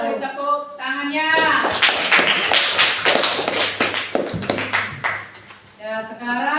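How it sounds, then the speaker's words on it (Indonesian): In a classroom after group A presents its parallel circuit results, students clap in a brisk, uneven burst of close hand claps lasting several seconds, with a teacher's voice speaking before and after. "Kasih tepuk tangannya."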